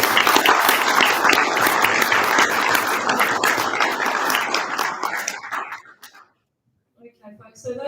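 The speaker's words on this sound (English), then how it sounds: "Can we give the panel collectively a round of applause?" A live audience gives a panel a loud round of applause that fills the room, then fades out and breaks off into near silence before a voice resumes speaking.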